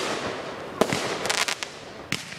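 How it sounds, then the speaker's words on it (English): Industrial fireworks explode outdoors at home, a few sharp cracks and bursts that pop irregularly over a faint crackling background, with no talking. "industrial fireworks."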